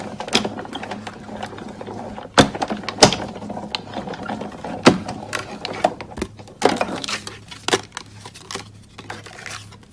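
A cardstock panel feeds through a hand-cranked die-cutting machine with a stitched-edge die, giving a run of sharp mechanical clicks and ratcheting knocks over a low steady hum.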